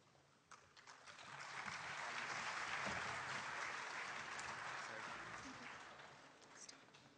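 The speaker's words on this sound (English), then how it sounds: "I think this historical event deserves the loudest of applause" Audience applause at a university inauguration of an IT block, swelling to a loud sustained round of clapping and then tapering off.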